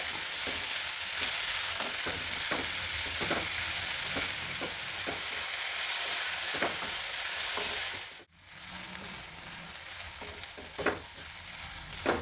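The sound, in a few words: capsicum and vegetables frying in a pan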